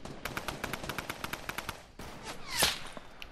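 Rapid automatic bursts from a drum gun in Fortnite ring out in a fast, evenly spaced string of loud shots, then a pause followed by a sharper single crack and whoosh near the end.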